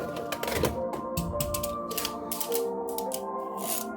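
A Beyblade X Wizard Rod spinning top is launched and spins out, giving a busy run of rapid rattling clicks and scraping against a plastic stadium.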